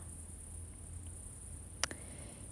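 Crickets chirp in the evening at a country house, a steady high-pitched trill running continuously and fairly faint, with a brief sharper click near the end and no voices.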